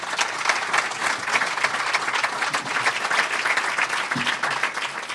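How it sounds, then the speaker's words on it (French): An audience at a tiny-houses conference in Sherbrooke applauds four panelists, a full, steady wash of clapping from a crowded room that carries on evenly throughout. "On peut applaudir nos 4 panélistes."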